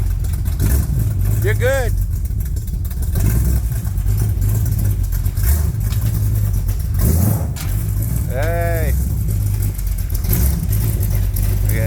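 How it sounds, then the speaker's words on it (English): A truck engine idles steadily just after a cold start, a loud, low, continuous rumble heard close, with brief words spoken over it. "Yeah, he's all excited because his truck's running right. Oh man, it sounds so sweet. That's the cold start, man."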